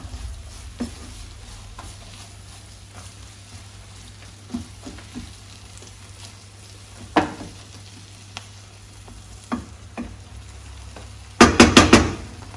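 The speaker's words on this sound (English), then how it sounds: "Mix it out so that they all get mixed well" Ingredients frying in a pan while being stirred and mixed: a continuous sizzle with a low hum beneath, scattered scraping taps from the utensil, and a loud cluster of rapid clatters at the end.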